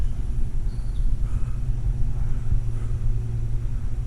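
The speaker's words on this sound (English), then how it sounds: "It sounds like this car is going to park over here." A pickup truck pulling in to park near a forest trail, a low steady engine rumble that stays close and constant, with no talking.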